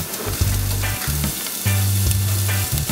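Chopped onion and garlic browning over medium-high heat in a pan give a loud, close, continuous sizzle, with a few soft stirring scrapes.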